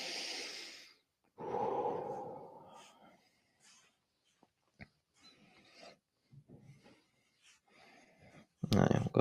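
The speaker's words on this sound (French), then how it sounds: "Pense à bien respirer." Breathing during a seated chair exercise session, with a few audible breaths and short rasps separated by quiet gaps and occasional faint rustling movement, close to the microphone.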